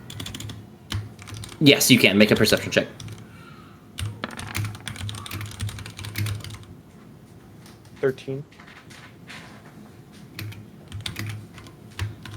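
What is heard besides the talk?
typing on computer keyboard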